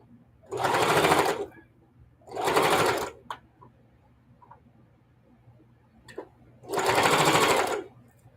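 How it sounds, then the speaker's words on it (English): A sewing machine stitches down quilt binding in three separate bursts of steady, rapid mechanical whirring, each lasting about a second, with faint clicks and handling noises between runs. "Just finishing sewing this down."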